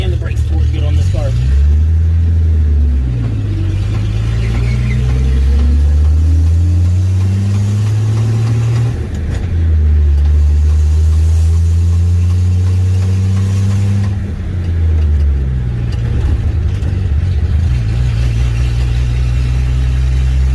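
A Rambler car's engine drones loud and close while driving on the road, rising in pitch as it accelerates through the gears with audible shifts between them, and someone talks briefly over it.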